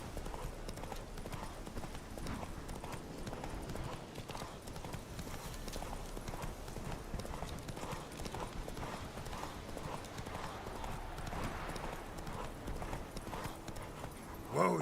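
Roach, a horse in The Witcher 3, trots with rhythmic, evenly spaced clip-clopping hooves that run steadily throughout at moderate volume, with faint ambient game sound underneath and a brief louder sound at the very end.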